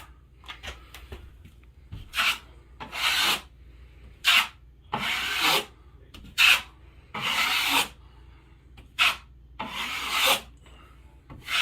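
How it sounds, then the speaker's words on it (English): A trowel spreading drywall mud over mesh tape on sheetrock, with repeated close, scraping rubbing strokes in an uneven rhythm separated by short pauses. "when you're applying pressure to your trowel, just try and keep the same amount of pressure to it"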